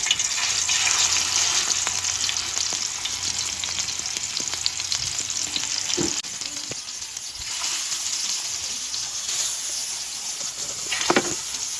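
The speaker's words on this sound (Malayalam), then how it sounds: "ഇനി ഇതൊരു ഭാഗത്ത് പൊരിയട്ടെ" Masala-coated fish fries in a hot pan with a loud, continuous close-up sizzle and hiss, broken by a few brief utensil clinks near the middle and the end, and no talking.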